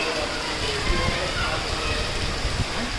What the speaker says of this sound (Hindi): ये देखो भाई बारिश आ रही है मोहाने में